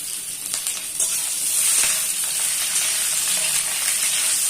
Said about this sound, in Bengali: তেল গরম হয়ে গিয়েছে, পটলগুলোকে দিয়ে দিলাম।